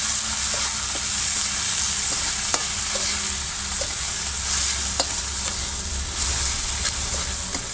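Cluster bean curry with tomato cooks in a pan with loud, continuous frying sizzle, and a spoon scrapes and stirs through it at a steady pace, with no voices.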